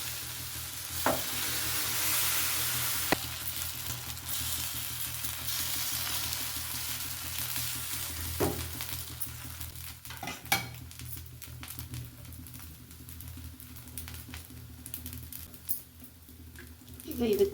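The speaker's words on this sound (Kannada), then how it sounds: "ಈಗ ಇನ್ನೊಂದು ದೋಸೆನ ಹಾಕೊಳ್ಳೋಣ" Tempered dosa batter cooks on a pan over a very low flame, giving a soft continuous sizzle with occasional scrapes and clinks of a utensil against the pan.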